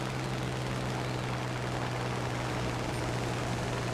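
A Spitfire LF Mk IX piston engine drones steadily and evenly while the fighter climbs in War Thunder, a constant loud hum with no voices.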